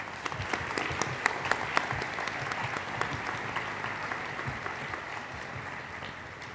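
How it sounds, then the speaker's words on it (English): Steady audience applause fills a hall during a county council installation ceremony in Maryland, dense clapping holding at an even level for several seconds with no voices over it. "Let's give them another round of applause."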